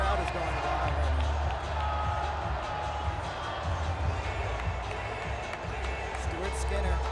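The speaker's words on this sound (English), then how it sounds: "The crowd is going wild right now." A packed hockey arena crowd at Game 7 of the Stanley Cup Final between the Florida Panthers and Edmonton Oilers roars in a dense, steady wall of noise that stays loud and unbroken throughout.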